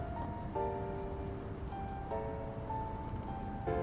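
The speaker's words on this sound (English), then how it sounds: "We had a bit of a drought for a while, so having this rain is a truly blessing." Rain falls steadily in a video game, a soft continuous patter under gentle sustained musical tones.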